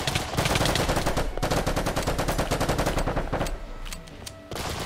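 Rapid automatic gunfire in a Minecraft roleplay game, a long loud burst of closely spaced shots with brief gaps, then a quieter stretch before firing resumes.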